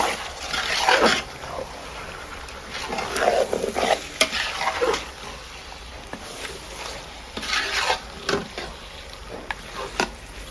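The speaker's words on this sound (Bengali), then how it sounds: "এখন পেঁয়াজের সাথে মাটন ভালো করে মিশিয়ে নিব।" Mutton is stirred with frying onions in a pot, giving irregular scraping bursts over a continuous sizzle, and a dog barks faintly in the background.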